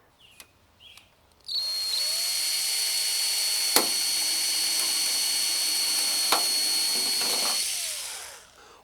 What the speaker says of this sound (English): and then drill a hole through it.